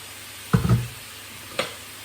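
Boiling water hits a very hot non-stick pan ready for tuna, giving two short sharp sizzling hisses about a second apart against a quiet kitchen background.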